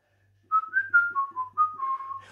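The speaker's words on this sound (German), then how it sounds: "Und ich pfeife auch gern, weil ich ein Pfiffikus bin." A person whistles a short, wavering melody of several clear notes, close and alone against a quiet room.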